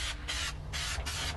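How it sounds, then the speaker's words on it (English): Adhesive sprayed onto the rear headliner and back window area of a classic VW Beetle, heard as three close, pulsing aerosol hisses in quick succession over a low background hum. "we're just going to spray this back headliner, back window area"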